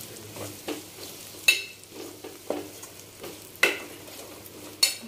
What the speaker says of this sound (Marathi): तेलावरती मसाला पूर्ण फ्राय करून घेतलेला आहे